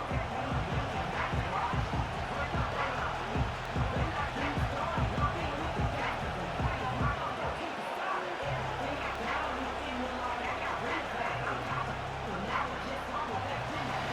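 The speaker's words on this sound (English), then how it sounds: "This crowd into it now as we get to third down." Simulated stadium crowd noise from Madden 25 during an Atlanta Falcons at Carolina Panthers game, a steady roar swelling behind continuous play-by-play commentary.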